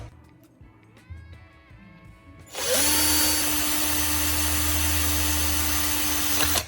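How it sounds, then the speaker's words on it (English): A hand drill bores a hole through the circuit board of an LED bulb; after quiet handling noises the motor starts abruptly and runs with a loud, steady whine and grinding that lasts to the end. "use a hand drill to make a straight hole right through the spot where the chip used to sit."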